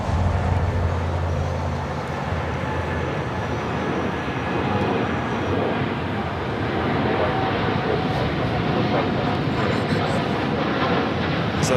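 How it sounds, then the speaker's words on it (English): Boeing 787 Dreamliner taking off at LAX, a broad, continuous jet engine roar held at steady loudness from start to finish, with a voice talking faintly beneath it. "the Dreamliner now taking off"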